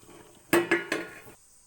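Three quick clinks of a metal lid lifted off a pot of boiled duck eggs, close and fairly clear, followed by faint kitchen handling noise and quiet.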